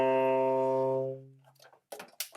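A tenor saxophone played with subtone sustains one soft, breathy, rounded low note for about a second before fading, followed by a few faint rustles and breaths.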